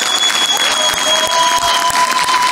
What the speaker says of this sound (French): Je vous demande d'applaudir Khaled Miloudi, s'il vous plaît.